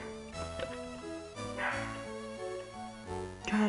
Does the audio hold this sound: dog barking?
yes